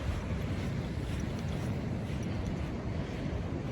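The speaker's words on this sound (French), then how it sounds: "Il y a quelques vagues." Steady, dense wash of sea waves on a fairly calm sea at a world championship sea-fishing venue, continuous and close with wind buffeting the microphone, no voices.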